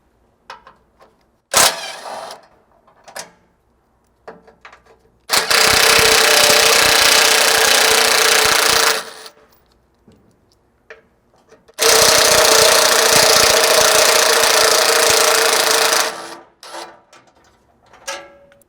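Power tool whirring on the fuel tank skid bolts of a Lexus GX460, heard as two long, loud, steady bursts separated by a quieter stretch of scattered clicks and taps.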